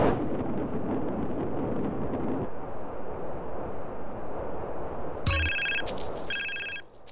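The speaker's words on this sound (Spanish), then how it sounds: "recién caímos y nos llamaron por teléfono" Game noise with a low rumble in GTA San Andreas gives way to an electronic phone ring that sounds in two short bursts near the end.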